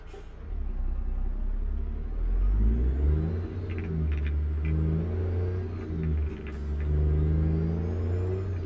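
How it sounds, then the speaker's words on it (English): A car pulls away from a standstill on Continental tires in a traction test, the engine revving up in rising, stepped surges close by, with a whirring drivetrain and faint squeaks over the steady roar. "I'm trying to accelerate exactly as I did before."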